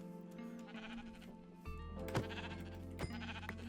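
Sheep bleating in Minecraft, several short bleats over a continuous game backdrop with a low hum entering partway, fairly quiet overall and with no talking.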